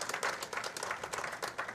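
Brief burst of audience applause at a professional women's bowling tournament title match, fairly faint dense clapping from the crowd lasting under two seconds.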